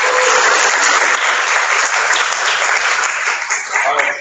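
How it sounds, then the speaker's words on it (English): A room rings with dense, sustained applause for a speaker named Todd at a Little Rock startup community event, loud and steady, easing slightly near the end. "Give great Todd a round of applause."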